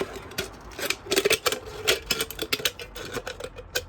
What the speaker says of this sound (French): On incline un peu les ciseaux et la lame va rentrer très facilement.